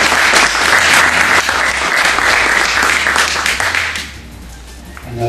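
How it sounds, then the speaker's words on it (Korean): Loud, dense audience applause at a Golfzon putting simulator product launch, steady for about four seconds and then tapering off toward the end. "다시 한번 큰 박수로."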